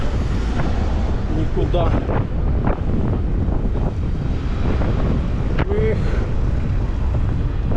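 Strong wind buffets the microphone throughout on an April ride along the Crimean coast near Ordzho and Feodosia, a steady loud roar with gusts, while someone speaks briefly over it.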